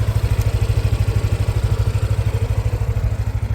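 A Yamaha Nmax 125 scooter engine idles close by, a loud, steady low thrum with an even, rapid pulsing rhythm and no talking.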